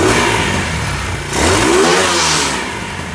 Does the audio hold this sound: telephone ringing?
no